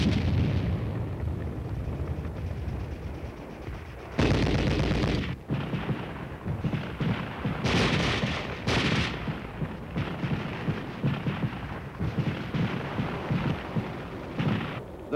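Artillery fire booms and crashes during army combat training, with heavy blasts and rumbling explosions breaking out repeatedly over a continuous noisy, rumbling background.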